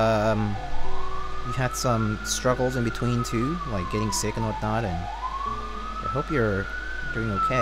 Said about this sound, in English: Sorry about the sirens. Pretty loud day in the city today.